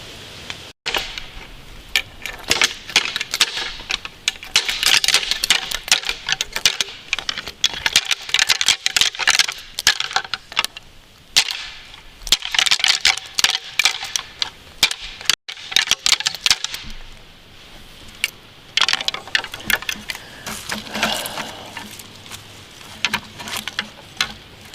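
Deer antlers rattled and clashed together by a hunter to draw in bucks, a dense run of clicking, ticking bursts in bouts with short pauses, close and fairly loud, with no talk.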